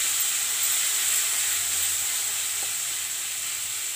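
Onions sizzle and fry steadily in a pan while restaurant-style paneer masala is being cooked, with a constant broadband hiss that carries evenly throughout, close and moderately loud, and no voices.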